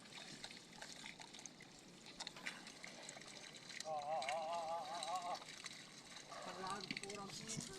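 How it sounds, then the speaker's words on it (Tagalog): Freshly caught fish jump and flap in water, giving soft, uneven splashes and trickles under people chatting nearby. "Tumatalon-talon na yung mga isda mga lods."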